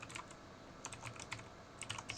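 Typing on a computer keyboard while coding, heard as light, irregular key clicks in small clusters with brief pauses, close but quiet, with no talking.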